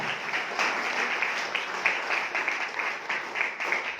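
An audience at a seminar applauds: dense, sustained clapping from many hands, steady and fairly loud throughout, with no voices over it.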